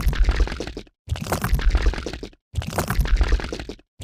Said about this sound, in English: This sound effect is only used for IRL Noella's OCs and characters when they play with slime